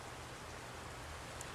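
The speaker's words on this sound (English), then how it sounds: "you can probably hear a typhoon has hit us now. This is the real rain" Heavy typhoon rain in Thailand falls steadily as a dense, even wash of noise, constant and fairly quiet throughout with no voices.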